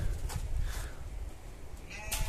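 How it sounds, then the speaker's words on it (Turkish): Sheep being let out to graze bleat in short, fairly faint calls over a steady low rumble of wind, with a few brief higher-pitched rustles. "Koyunları da dışarı çıkaracağım."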